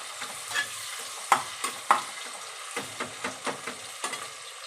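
Chicken sizzling in oil inside a pressure cooker, browning until golden, with repeated stirring scrapes and clanks over a steady frying hiss, close and fairly loud.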